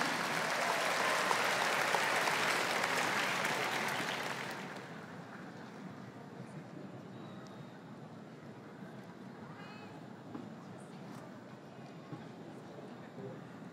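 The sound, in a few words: applause from the audience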